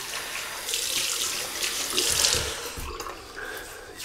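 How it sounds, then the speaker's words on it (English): Tap water runs steadily and splashes onto a shaving brush held beneath it, close up, a continuous hissing flow. "a bit of water on the brush"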